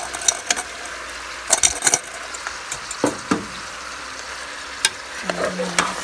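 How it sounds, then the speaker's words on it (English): Ackee and frozen vegetables being stirred in a pot for seasoned rice, with a spoon scraping and clinking in scattered strokes over a soft steady sizzle, close and fairly quiet. "I'm just going to stir everything like that"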